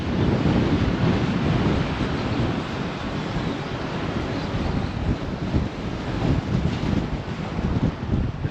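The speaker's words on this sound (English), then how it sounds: "It's really windy." Strong wind gusts buffet the microphone beside the Savannah River along a waterfront back street, a loud continuous roar and rumble with no speech.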